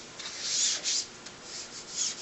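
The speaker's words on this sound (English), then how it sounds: "I get rid of all the little fuzzies just using some sandpaper" Sandpaper worked by hand over the edge of a wooden CNC inlay cutting board gives soft, close rubbing strokes, about five swells in quick rhythm, quiet and alone.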